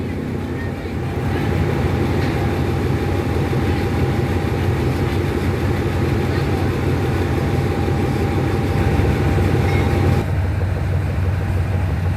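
A train rumbles steadily and loudly at close range at Thonburi railway station in Thailand, its deep continuous drone filling the whole stretch with a faint high whine above it.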